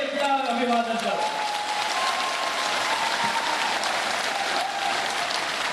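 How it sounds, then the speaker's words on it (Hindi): A large crowd applauds at a political rally in Madhya Pradesh, with steady dense clapping throughout, mixed with crowd noise after a voice on the loudspeaker fades in the first second. "अरे तालियों की गड़गड़ाहट से उसका अभिवादन करो"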